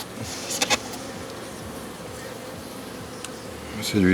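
A dense, steady buzzing of many honeybees in a hive fills the air, with a few light knocks and clicks nearby.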